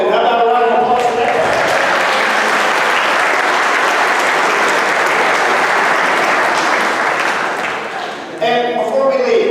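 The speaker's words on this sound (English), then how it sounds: "How about a round of applause for that?" Sustained, loud audience applause fills a hall during a Holy Cross Sports Hall of Fame ceremony, steady clapping that dips briefly near the end before swelling back.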